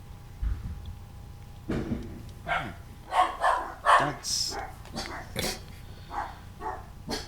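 A dog barks repeatedly in short, moderately loud bursts with uneven spacing, with a brief spoken word near the start.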